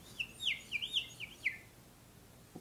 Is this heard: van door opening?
no